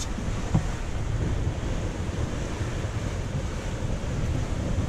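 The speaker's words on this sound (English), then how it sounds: "The wind has piped up to 18, gusting 20." Strong wind, about 18 knots gusting 20, roars over a continuous wash of breaking waves and churning sea around a sailing yacht, loud and unbroken with one brief thump near the start.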